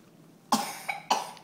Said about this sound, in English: Sometimes I doesn't cover my mouth and cough.